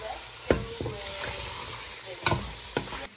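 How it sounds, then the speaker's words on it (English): A spoon stirs Kenyan pilau spices in a pot over low sizzling, with a few sharp scraping knocks against the metal, close and moderately quiet. "And then you mix it well."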